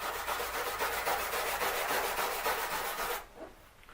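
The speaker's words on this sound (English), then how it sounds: "it will need to be cleaned with a stainless steel wire brush" Stainless steel wire brush scrubbing a metal panel before spot welding, a close, steady rhythmic rasping of quick back-and-forth strokes that stops abruptly near the end.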